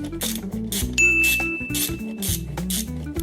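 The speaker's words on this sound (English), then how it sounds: "Just like the sound of a subscribe notification bell." A bright bell-like ding rings out once, sustaining as a clear tone, used as a subscribe notification sound effect over steady background music.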